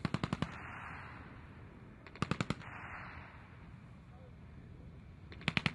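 Lewis gun machine gun fires at a DR-1 triplane in three short bursts of rapid, sharp reports, loud and near, separated by seconds of steady hissing background noise with faint voices.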